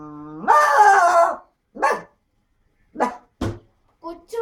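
An 85-year-old woman imitates dogs fighting with her voice: a long snarling, growling bark comes first, followed by several short, sharp yelps and barks separated by brief pauses.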